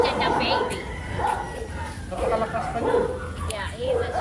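Young puppies yip and bark in short, high bursts close by, mixed with whimpers, while people talk over them throughout.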